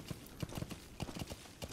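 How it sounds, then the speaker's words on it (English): Brisk rhythmic hoofbeats from a horse in Metal Gear Solid 5, a quick run of clip-clops on hard ground, faint and fairly close, with no talking. "Why did I name my horse Pewter?"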